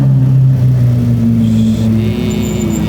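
A loud sports coupe engine revs hard up close, a deep throaty drone with a rising, shifting pitch that holds steady and strong throughout, with no talking.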